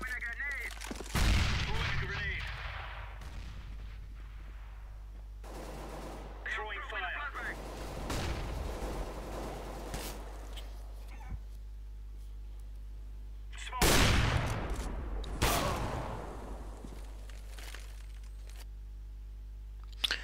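Gunshots in the tactical shooter CS:GO, a few sharp loud bursts spaced across a mostly quiet stretch with a steady low hum underneath, plus people talking.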